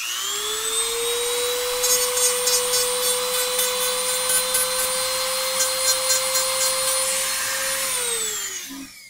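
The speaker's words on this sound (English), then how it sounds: "Just hit it with the Dremel to get it flat." Dremel rotary tool grinding a plastic speed-cube piece flat, a loud steady high-pitched whine that holds for about eight seconds, then winds down at the end.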